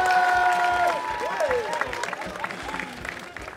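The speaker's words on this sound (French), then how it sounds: "on applaudit en tout cas Brother Main" Audience applause and some cheering at a live video game tournament final, with tonal music or game sounds audible alongside, fading gradually toward the end.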